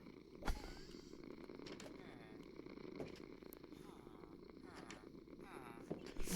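A Minecraft cat purrs steadily at close range, a soft continuous rumbling that runs under a game soundtrack with scattered clicks for several seconds.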